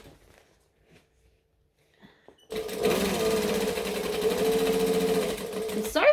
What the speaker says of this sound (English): I'm going to do some stitches, lift it up, and go back and just stitch again